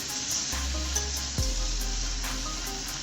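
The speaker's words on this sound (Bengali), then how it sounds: "এই সবজিটাকে আমি খুব ভালো করে ভাজব।" Mixed vegetables (beans, potato, eggplant, pumpkin and papaya) fry in a pan with a steady, close hiss and sizzle, plus a brief stirring scrape midway.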